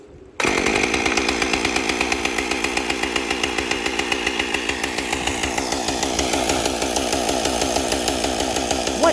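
Power saw cutting through nails, starting abruptly after a brief quiet moment and then running loud and steady with rapid regular rasping pulses of blade against metal, alone without talk.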